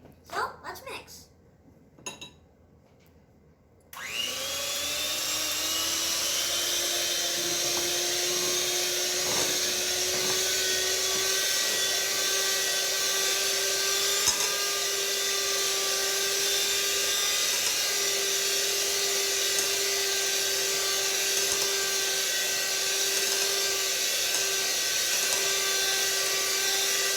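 An electric mixer whirs steadily at medium speed through cake batter, a sustained, even hum that starts after a few seconds of light clinks and handling noises and then continues alone for over twenty seconds.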